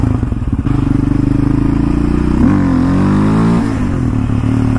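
A 2019 Yamaha Raptor 700 ATV engine revs hard and steadily up close during a wheelie attempt, holding high revs before the pitch dips and climbs again as the throttle is worked.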